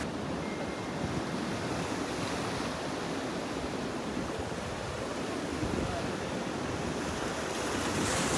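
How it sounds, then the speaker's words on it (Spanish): Big ocean waves crash and roar continuously against the shore, loud and close, with heavy wind buffeting the microphone throughout. "¡Qué barbarie de olas!"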